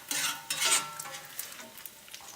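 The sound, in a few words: bacon frying in pan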